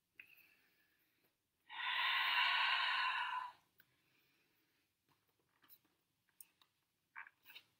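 A person breathing during an advanced Pilates exercise gives one long, loud, close exhalation lasting about two seconds, followed by quiet, with a few faint short breaths and small mouth noises afterward.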